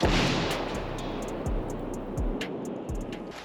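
An artillery gun on the front line fires a series of shots, each a deep, heavy boom roughly every second, loud and close, with rumbling noise between them.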